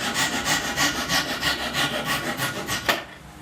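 A hand saw trims wooden tenons with a quick, steady run of about a dozen close, rasping strokes that stop abruptly near the end.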